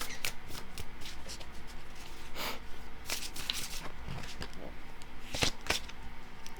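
Tarot cards shuffled and flicked at close range, a scatter of quick papery snaps and riffles over faint room noise, with no talking during the shuffle.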